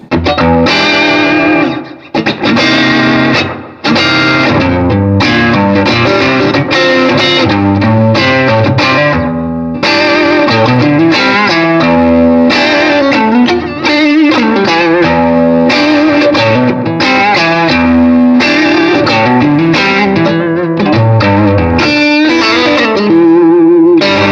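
A heavily distorted electric guitar rings out chords, loud and sustained with effects, strummed repeatedly with brief gaps between phrases.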